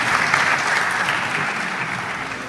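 Steady, dense applause from an audience at a national spelling bee finals, a continuous wash of clapping hands that holds at an even loudness throughout without breaks.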